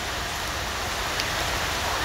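Heavy rain falls in a continuous, dense hiss that stays loud and even throughout the short stretch.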